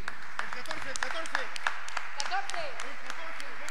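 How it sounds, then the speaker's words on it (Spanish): A crowd gives scattered, light applause with sporadic sharp claps at the Telhue de Achao 2018 village festival, heard under a person talking. "Un aplauso."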